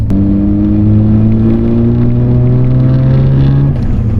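Mazda RX-7 turbo rotary engine revving loudly and steadily, its pitch climbing smoothly over about four seconds before dropping off near the end, no voices.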